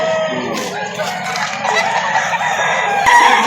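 A Thompson White gamecock crows loudly and close by in a market setting, one drawn-out cock-a-doodle call with clucking and faint crowd noise around it.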